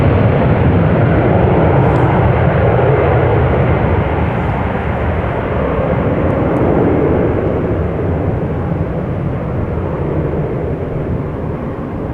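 A 19-year-old Airbus A320-200 airliner departs Amsterdam Schiphol Airport, its engines producing a loud, steady broadband jet roar that holds throughout with no talking.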